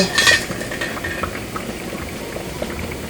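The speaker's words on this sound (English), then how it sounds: "Okay, so this is boiling now" A pot of tomato sauce bubbling steadily at a low rolling boil, with soft pops and the faint clink of a utensil at the start.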